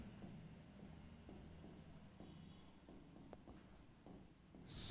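Chalk or marker writing on a board during a history lecture, a faint run of short scratchy strokes in quick irregular rhythm, alone and close, with a louder scrape at the end.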